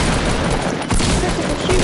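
Gunfire in the video game Fortnite, a dense rapid burst of shots filling the short stretch at steady loudness, with a brief dip midway.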